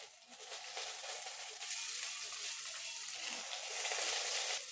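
Eggplant sizzles in a pan with onions, a steady bright hiss of frying that swells slightly louder partway through.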